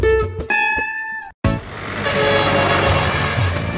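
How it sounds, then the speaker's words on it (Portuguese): A truck on a road gives a few short horn toots, then an abrupt cut leads into a continuous loud rumble of the truck passing close by, with no talk. "Já dá para ouvir o caminhão de Francisco passando nas novas estradas"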